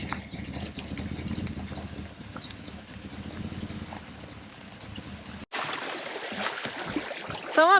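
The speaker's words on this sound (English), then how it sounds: "Testing the motor." A small boat's outboard motor being tested drones steadily near a lake, the pitch and texture shifting sharply partway through as the running changes.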